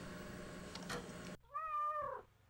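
A cat in a video game gives a single clear, drawn-out meow that rises and falls after a stretch of busy background game sound, close and fairly quiet overall.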